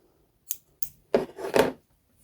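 Scissors snipping crochet yarn, two quick short snips followed by a longer double cut, close and alone.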